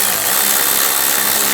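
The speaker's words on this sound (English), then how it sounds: "Tighten down the worm clamps." A power tool whirs steadily for under two seconds, running down worm clamps over the airbox on a 2015-2020 GMC Yukon XL, a constant close mechanical drone with no talk.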